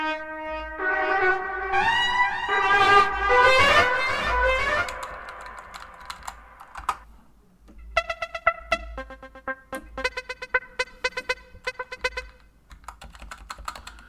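A dark ambient horror sample library played on a keyboard: sustained eerie tonal layers swell and fade, followed by sparse clicking, tapping rhythmic textures and short pitched stabs, all up close without any voices.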